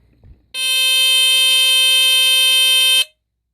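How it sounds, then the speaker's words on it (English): A loud, shrill, piercing wailing squealer horn from a First Alert SA76RS smoke detector under test sounds continuously for about two and a half seconds after a faint rustle, then cuts off abruptly. "And it has that classic squealer horn sound, that sort of wailing. It's very shrill sounding."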